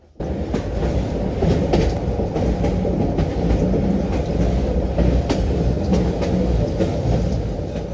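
A train rumbles steadily along the rails, a continuous loud low roar with faint rhythmic clacks, heard from inside the carriage with no talking.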